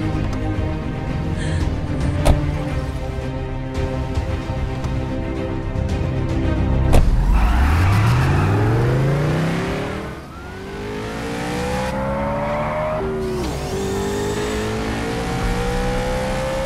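A vehicle engine revs up hard and accelerates, its rising pitch sweeping upward as it pulls away, loud and close at first, then easing off before revving again, with tires and mechanical whine over a busy background.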